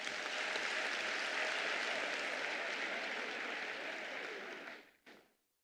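An audience at a PDCI-RDA party congress in Côte d'Ivoire applauds: a dense, steady wash of many hands clapping for about five seconds, then fading out and cutting off sharply.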